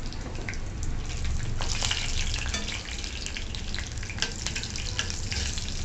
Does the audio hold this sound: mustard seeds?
yes